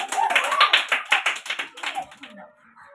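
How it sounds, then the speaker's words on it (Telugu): Children clapping their hands at an anganwadi, about a dozen rapid sharp claps close by, with an adult speaking over them before the clapping trails off. "క్లాప్స్ కొట్టండి, గట్టిగా కొట్టండి, చాలా గట్టిగా"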